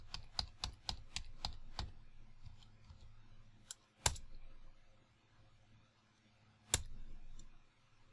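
Someone types a password on a computer keyboard: a quick run of about eight close key clicks, then a few scattered, louder presses after pauses. The room is quiet apart from the keys.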